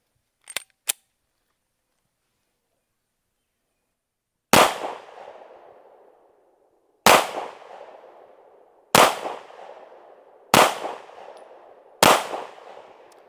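A PX-9 pistol fires five sharp, loud shots at an outdoor range, spaced one to two and a half seconds apart, each with a short echoing tail, after two faint clicks at the start.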